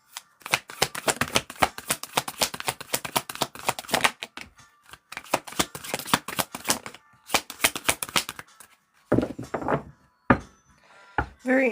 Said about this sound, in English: I'm gonna give them a shuffle.